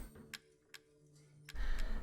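Clock in the Resident Evil 7 video game, three crisp, evenly spaced ticks over quiet ambience, followed by a louder burst of low background rumble.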